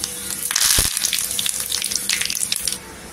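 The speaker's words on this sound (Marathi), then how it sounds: "तिथे तेल ठेवलेलं आहे, त्यात जिरं टाकलेलं आहे आणि कढीपत्ता टाकायचा" Cumin and curry leaves hit hot oil as a tempering for coconut chutney, a sharp loud sizzle burst settling into a continuous hissing crackle that cuts off near the end.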